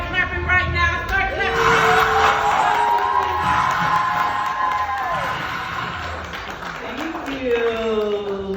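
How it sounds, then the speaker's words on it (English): A crowd at Madison Square Garden clapping and cheering loudly, with whoops and shouting voices layered over dense applause throughout. "start clapping right now"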